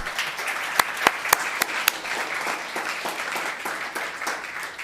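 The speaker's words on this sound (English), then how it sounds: "Let's give a big round of applause to Claire Kennedy" Audience at a Los Gatos town council meeting applauding, a steady wash of many hands clapping with a few sharper near claps standing out early, no talking over it.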